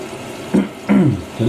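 Water flushes steadily into the drum of a Hoover NeXtra HNL3146 washing machine with broken shock absorbers, a continuous close wash broken by a few short bursts of voice.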